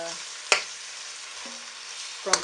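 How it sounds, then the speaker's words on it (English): Prawns fry in a pan for pinakbet, giving a steady bright sizzle broken by a couple of short clinks and stirring scrapes. "What I will do is cook the prawns a bit."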